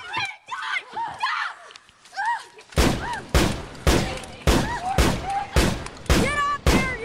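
Gunfire in a scene from a drama episode set at Alcatraz: a rapid string of loud, sharp shots follows shouting voices.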